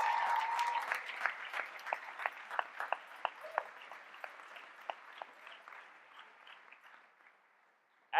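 A large audience at a 2013 NYU graduate convocation applauds the graduating class. The clapping is dense and steady at first, then thins out and fades gradually over several seconds to near silence.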